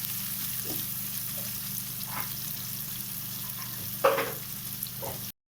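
Onions frying with cumin in a pan for egg curry, a steady low sizzle throughout with a few soft stirring scrapes and a brief louder clatter near the end, no talking.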